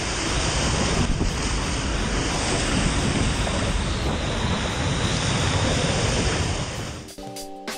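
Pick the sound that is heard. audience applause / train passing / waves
waves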